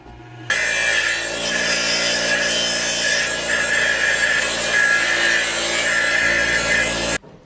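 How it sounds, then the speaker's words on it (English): A bench grinder grinds rough cut edges off wire cage panel for a rabbit cage, a steady harsh abrasive whine with metallic scraping that runs continuously for about seven seconds, close and loud with no talking. "I put this on the grinder and I just grind this off"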